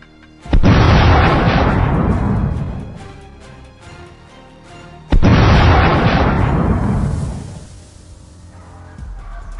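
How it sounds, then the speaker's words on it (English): Two loud, booming gunshots from hunters shooting wild boar in snow, several seconds apart, each followed by a long rolling echo that fades slowly. "Gunshots ring out almost simultaneously, taking down the one."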